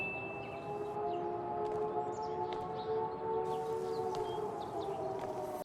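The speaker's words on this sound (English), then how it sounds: "Oh, please tell me that siren means a Silent Hill hell world is about to descend on these two." A steady, wailing siren from the video game Life is Strange: True Colors drones continuously at moderate level over a faint ambient backdrop, with a few light chirps scattered above it.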